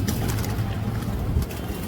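Pakistani pigeons coo in a loft among a large flock, soft low throaty calls rolling over each other close by, set against a busy outdoor background.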